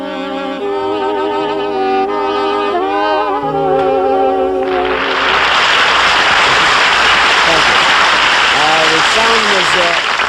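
A big band, three saxophones playing a simple sustained harmony for a few seconds, then the music gives way to a loud wash of applause and crowd noise.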